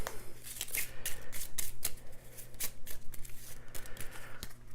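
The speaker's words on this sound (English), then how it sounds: "And then we would shuffle these again so no one has an advantage of seeing the top card." Board game cards are shuffled in a rapid run of crisp riffling snaps and flutters, close and fairly loud, with a steady low hum underneath and no talking.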